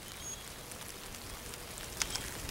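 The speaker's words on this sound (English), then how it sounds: "we're out here in the rain." Rain falls steadily outdoors by a brook trout stream on a morning fishing trip, a faint, even hiss of drops with a few small close taps and patters.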